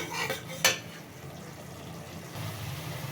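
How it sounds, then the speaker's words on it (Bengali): Spices with turmeric being stirred and fried in a pan for a raw jackfruit dish, with a quiet steady sizzle, one sharp metallic scrape near the start and soft stirring sounds after. "এবার ভালো করে মিশিয়ে নিচ্ছি মশলাটাকে এবার ভালো করে কষিয়ে নেব কিছুক্ষণ"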